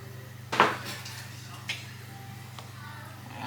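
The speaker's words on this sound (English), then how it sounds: "I'm just going to use the spatula to scrape it down." A spatula scrapes around the inside of a Thermomix bowl with one sharp clattering scrape near the start, then a few lighter knocks over a steady low mechanical hum.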